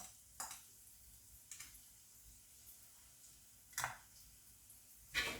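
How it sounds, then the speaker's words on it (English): Chopped scotch bonnet pepper sautés in a pan, giving a faint, low sizzle broken by four short scraping stirs spaced a second or more apart. "So then we're going to stir those for a minute. So allow them to saute."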